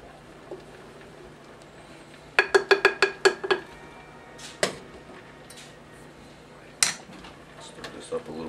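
Spoon stirring rehydrated dehydrated-hamburger sauce in a pot, giving a quick run of about eight sharp clinks and scrapes, then a few scattered knocks against the metal, close and moderately loud over faint background noise.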